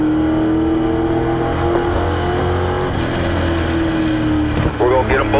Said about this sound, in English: Roll in the gas, open it up.